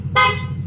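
Short, loud, close blast of an original PIAA horn fitted to a Yamaha Nmax V2 motorcycle, a single bright toot lasting about half a second with a brief second tap at the end.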